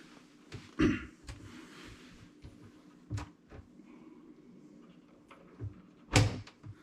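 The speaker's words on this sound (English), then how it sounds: "doors are pretty easy to take apart" Cabinet doors being taken apart for painting, a scatter of sharp knocks, clicks and wooden clunks at irregular intervals, two of them louder thumps, close by and without talk.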